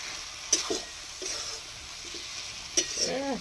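Pointed gourd (potol) sautéing in a pan for a Bengali curry: a soft, steady sizzle with a few sharp clinks of a spoon stirring against the pan, fairly quiet and with no talking.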